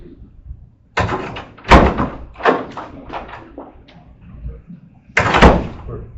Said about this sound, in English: Can we close the door?